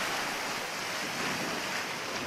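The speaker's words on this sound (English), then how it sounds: "At places, the current got quite a bit faster." Fast current on the Kongakut River rushes steadily while rafting, a continuous broadband wash of water close by with some wind buffeting, no voices.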